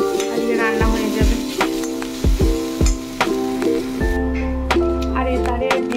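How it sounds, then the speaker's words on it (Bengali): Okra frying in oil in a karahi, a steady sizzle broken by sharp clinks and scrapes of a spatula against the metal, with a low steady hum underneath. "ভেন্ডিটা ভাজার জন্যও কড়াই তেল দিয়ে দিয়েছি, ভেন্ডিটাও ভেজে নেব।"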